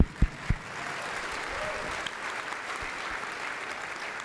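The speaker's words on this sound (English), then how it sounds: "round of applause" Audience applause greeting a panelist at an expert discussion event on Iran strikes, a few sharp nearby claps first, then a steady wash of moderate clapping from a room of people.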